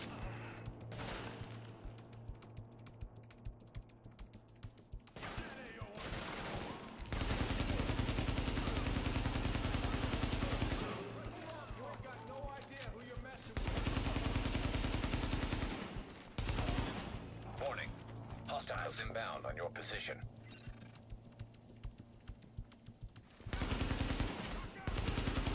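Bursts of automatic gunfire from a Tom Clancy's The Division firefight in a building lobby, loud sustained volleys broken by short quieter gaps, with voices calling out between the shots.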